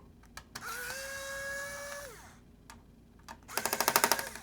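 A small electric screwdriver whirs as it unscrews the battery screws on an HP 15-DY1043X laptop. There are short bursts, then a sustained whine that drops in pitch, a pause, and a final rapid ratcheting burst, all close and fairly quiet.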